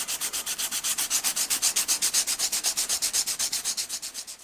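A Scandi grind knife is hand sharpened with fast, even back-and-forth strokes, a close, steady scraping rhythm of many rapid passes with no talking.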